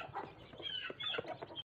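Several hens and roosters cluck busily and close by in a feeding yard, with overlapping chattering calls that break off briefly near the end.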